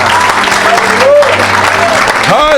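Church congregation applauding in acclamation of Jesus, loud continuous clapping throughout, with a voice and pitched vocal sounds over the top.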